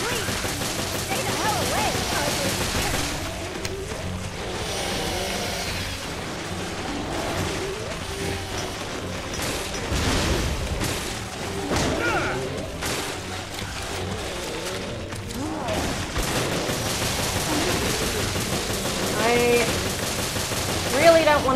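Continuous gunfire and bursts from the survival-horror video game Resident Evil Revelations, loud and dense throughout with game music and effects, while a player talks over the action.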